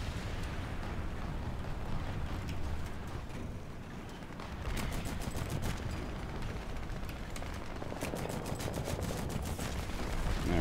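Continuous battle din of artillery and automatic gunfire in War Thunder, dense overlapping blasts and rattling shots with sharper bursts around the middle and toward the end, loud and sustained with no talking.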